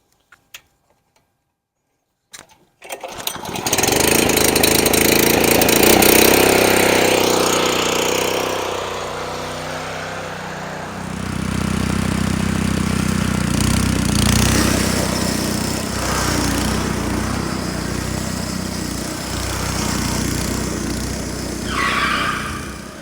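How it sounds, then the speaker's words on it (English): A lawn mower mowing Bermuda grass starts up after a few clicks and tugs, then settles into a loud, steady engine drone whose pitch dips as the blades bog down in heavy cutting. "let's go ahead and start up the mower."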